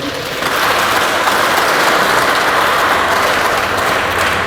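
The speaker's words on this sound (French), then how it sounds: "j'aimerais que chacun applaudisse pour lui-même" Steady, broad applause from a crowd at a general assembly meeting, starting abruptly and holding loud and uniform like rainfall.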